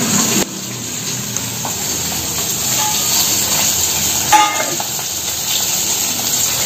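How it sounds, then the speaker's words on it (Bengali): Small fish pieces frying crisp in a pan of hot oil, giving a steady, close sizzle and hiss throughout with a brief louder crackle near the end, no talking. "তো ফ্রেন্ডস, এখানে মাছ ভাজাটা হোক"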